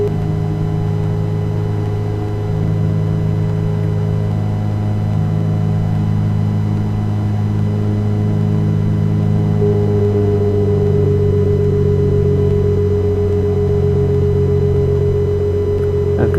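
A light aircraft engine idling at low RPM in the X-Plane 11 flight simulator, a loud, steady droning hum with stable harmonic tones that shift slightly in pitch partway through, heard alone.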